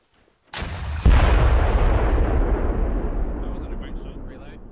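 A single loud gunshot boom in the Arma 3 military shooter game, preceded by a quieter crack and followed by a long, rolling echo that slowly fades.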